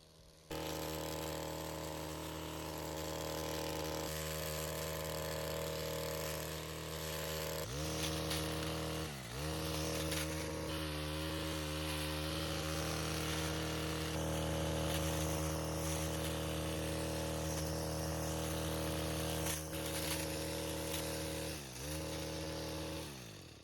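A forestry cutting machine with a two-foot cutting head runs continuously, a loud steady engine drone with a harmonic whine that briefly dips and recovers as it bites into ground and brush.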